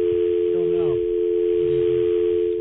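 A telephone dial tone for a call to an office hums loudly and continuously throughout, while voices speak over it.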